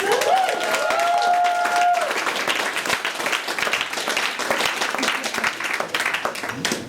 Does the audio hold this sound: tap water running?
no